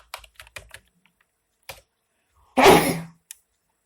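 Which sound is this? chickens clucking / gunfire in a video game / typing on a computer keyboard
typing on a computer keyboard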